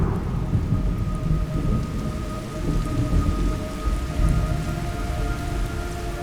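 Steady heavy rain with rolling low thunder in the video game Metal Gear Solid Delta: Snake Eater, a dense continuous downpour with deep rumbles underneath and no talking.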